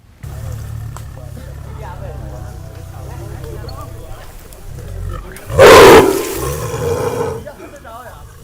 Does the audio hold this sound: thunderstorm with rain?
no